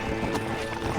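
Rapid clip-clop of horse hooves at a steady gallop in the video game Red Dead Redemption, close and moderately loud, over a faint background hum.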